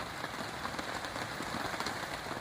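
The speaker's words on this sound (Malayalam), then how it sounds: "ഈ മഴ പെയ്യണേയും കാറ്റ് വീശണേയും പുഴ" Heavy rain pours steadily on a mountaintop, heard from inside a tent as a dense, continuous hiss of drops drumming on the fabric, with no voices.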